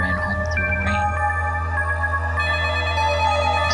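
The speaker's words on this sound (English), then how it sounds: "the phone rang" A telephone rings in the horror video game Summer Nightmare, its tonal electronic ringtone steady and fairly loud for the whole stretch, with stacked harmonic tones over a low hum and no talk.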